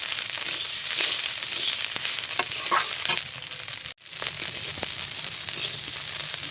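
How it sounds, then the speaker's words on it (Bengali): Rice with salt and turmeric frying and crackling in a pan, a steady dense sizzle with stirring scrapes, loud and close, briefly cut off midway before resuming. "দেখুন চালটা পটপট করছে, তাহলে চালটা ভাজা হয়ে গিয়েছে"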